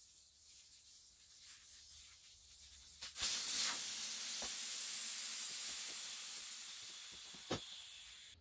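A sustained, loud rush of air hisses out of a tire with a TPMS valve once the valve core is pulled, starting abruptly after a few quiet seconds and slowly easing off, with a faint tap partway through.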